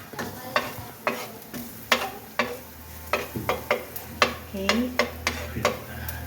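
Crushed garlic frying in a pan for milkfish sarciado, with a steady sizzle beneath repeated sharp scraping strokes of a utensil in an irregular rhythm, close by, and a brief spoken word.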